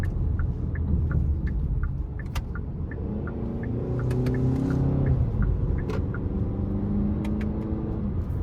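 A 2023 Hyundai Santa Fe SEL with a 2.5-liter four-cylinder and AWD accelerates and downshifts, a low engine drone rising and falling in pitch under road rumble, steady from inside the cabin, with faint periodic ticking.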